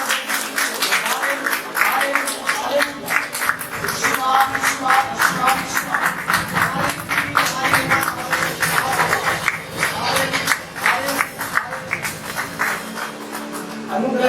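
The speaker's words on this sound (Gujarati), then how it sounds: "આવો તાળીઓ પાડી અને કૃપાપૂર્વક" Congregation clapping during a Sunday church service, a steady dense patter of many hands sustained throughout, with music or voices underneath.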